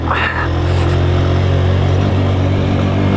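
Motorcycle engine on a Himalayan ride in Nepal, held in second gear and revved hard. Its loud, steady drone stays close throughout, with a brief higher-pitched whine near the start.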